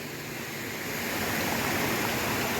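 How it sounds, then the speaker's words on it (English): Water pours down the Edessa waterfalls in a Greek park, a steady broadband rush of falling water that swells slightly louder partway through, with no voices. "There's like water coming down from every part you can imagine."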